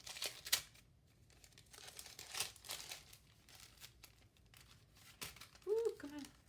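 Gift wrapping paper is pulled open on a mail parcel with loose bursts of crinkling and tearing close up, and a voice briefly speaks near the end.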